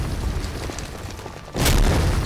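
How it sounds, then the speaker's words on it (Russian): A single heavy cannon blast booms out in a D-Day World War II video game battle, a sudden loud burst after quieter rumbling battlefield background. "видите, пушка стреляет не совсем метко"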